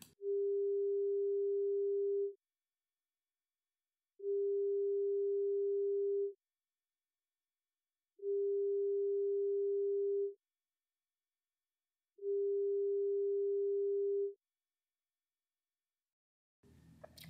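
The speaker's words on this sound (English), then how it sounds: "So let's start first with the tone alone." A pure sine test tone for a binaural masking demonstration sounds alone in four identical steady beeps of about two seconds each, evenly spaced by two-second silences.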